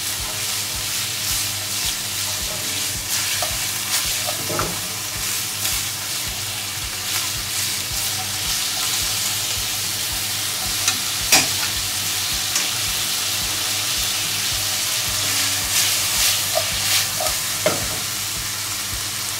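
Chinese sausage fries in a pan as liquid cooks off, a long steady sizzle with occasional scrapes and taps of stirring scattered through it.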